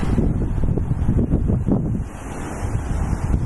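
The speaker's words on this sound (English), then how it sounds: "Certainly coming in now, very windy." Strong wind ahead of an incoming storm, loud, rumbling gusts buffeting the microphone in waves, with rustling and low roaring and no speech.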